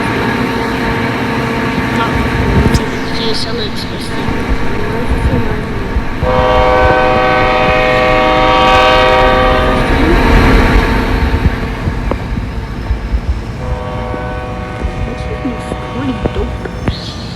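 A bullet train rumbles past loudly with steady horn blasts sounding over it, the horn returning briefly near the end.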